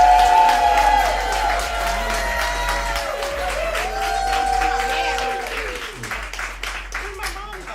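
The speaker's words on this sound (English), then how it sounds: "I want a big round of applause for Atlanta's own Miss Rhonda Thomas." Applause and cheering from a live audience welcoming a guest onto an interview stage in Atlanta, steady and fairly loud across the whole stretch, with music and voices mixed in underneath.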